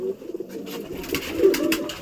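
Low, rolling cooing from a group of pigeons in a loft, dense and close, with faint shuffling over the top and no voices.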